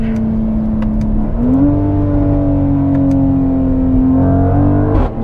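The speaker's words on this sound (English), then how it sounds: "The burbles and the crackles from the exhaust sounds, and this is from my 3-liter." A 2021 Mercedes-AMG GLC 43 with a 3-liter inline six pulling hard, heard up close as a steady droning exhaust note that steps up in pitch after a shift. Faint pops and crackles come through, and a sharp burst lands near the end.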